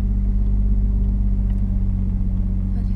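A manual Lexus IS300 rolls away as the clutch is released, a deep steady engine rumble with a low idle drone, close and constant without talk.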